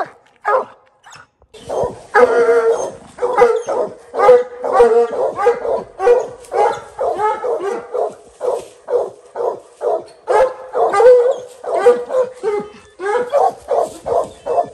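A Black and Tan coonhound bays and barks on a night coon hunt, rhythmic repeated bawling howls near the microphone, loud and continuous with short gaps, a few whimpering yips mixed in.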